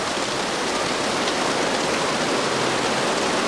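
Rain falls outdoors in a dense, even hiss of countless drops striking the surface, close and loud and continuous, with no voices.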